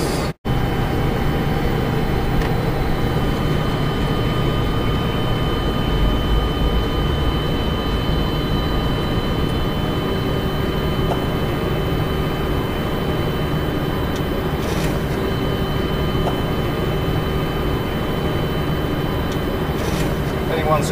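A Boeing airliner's takeoff roll from inside the cockpit, a loud, steady engine roar with broadband rushing noise throughout, with radio chatter and crew voices over it.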